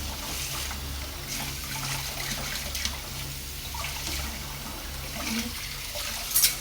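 Tap water running steadily into a sink while dishes are washed by hand, a faint continuous trickle and splash with a few light clinks near the end.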